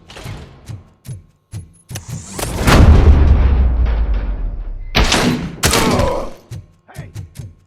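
Gunfire and heavy booming impacts in RoboCop: Rogue City, a burst of sharp reports followed by a loud sustained rumble, then more loud blasts and scattered thuds, with game voices in between.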